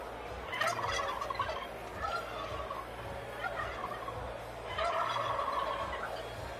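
Turkeys gobble in repeated rattling bursts, fairly faint and a little distant, over a low steady hum.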